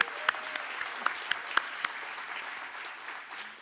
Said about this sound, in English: So how about an applause for Gabby?